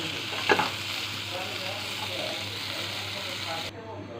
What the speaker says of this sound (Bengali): তো কাঁকরোলগুলো আমার মোটামুটি ভাজা হয়ে গিয়েছে, আমি যেরকম চাচ্ছিলাম।